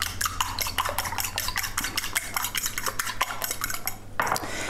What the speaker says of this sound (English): And then I'm just going to beat my eggs.